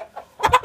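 A chicken, with a rooster nearby, gives a few soft clucks, then three quick, louder clucks close by in rapid succession.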